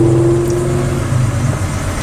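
A 1967 Mercury Cougar XR7 engine running just after starting, a loud steady idle with a low rumble and a constant hum, heard alone without speech.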